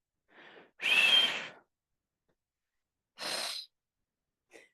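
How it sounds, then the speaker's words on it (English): Breathing during a cardio strength workout: a short inhale, then a longer, loud exhale, and after a pause another strong breath with a faint trailing puff, close and with no talking. "Inhale and exhale."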